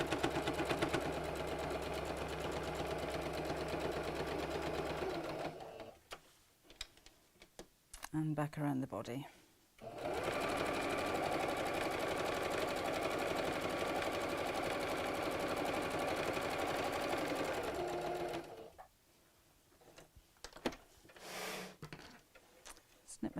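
A sewing machine stitches through several layers of felt on an Easter bunny door hanger, running in two long, loud, steady bursts with pauses between, and someone speaks briefly during the gaps.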